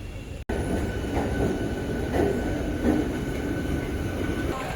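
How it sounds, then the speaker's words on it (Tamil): A WAP-7 electric locomotive, number 39023, hauls the Chozhan Express, giving a steady, loud rumble of rolling stock with faint wheel squeal that runs continuously after a brief cut near the start, without talk. "நம்ம 22675 சோழன் எக்ஸ்பிரஸை புல் பண்ணுற லோக்கோ இவன் தாங்க"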